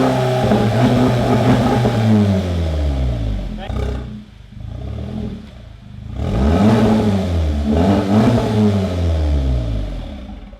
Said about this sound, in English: Have you ever wondered what a GTI sounds like without an exhaust? You're about to find out